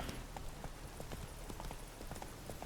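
Horse hooves clip-clopping in a steady trotting rhythm while riding in The Witcher 3: Wild Hunt, fairly faint and even, with no talk over them.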